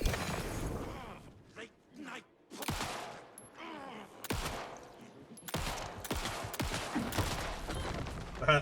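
Pistol shots in Alan Wake 2: several sharp, loud gunshot bursts spaced irregularly, some in quick succession, with quieter rustling and movement between them.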